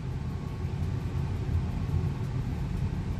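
A Maruti Suzuki Fronx Delta Plus 1.2 manual cruising in fourth gear, giving a steady low engine and road rumble that stays even and close throughout, with no talk.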